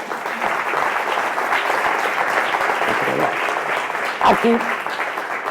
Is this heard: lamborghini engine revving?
no